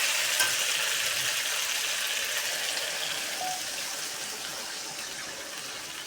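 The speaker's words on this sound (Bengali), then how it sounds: "এখন আমি জল দিয়ে দিব" Water goes into a pan of frying curry in a Bengali kitchen, a steady, fairly loud hiss and sizzle that runs evenly throughout with no talking, ending in a faint knock.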